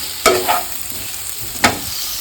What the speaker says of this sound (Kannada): ಸೊ ಇದನ್ನು ಒಂದು ಟೂ ಟು ತ್ರೀ ಮಿನಿಟ್ಸ್ ಇವಾಗ ಫ್ರೈ ಮಾಡ್ತೀನಿ